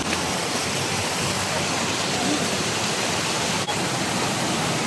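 Cabutonan waterfall in Samar, Philippines, gives a steady, dense roar of falling water that fills the scene without pause from start to finish.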